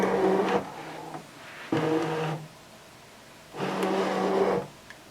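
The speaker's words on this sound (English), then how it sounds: "So I'm just going to load that into the machine now." A Brother ScanNCut DX cutting machine loads a mat holding adhesive vinyl, giving three separate motorized whirring bursts with pauses between them, close and moderately loud.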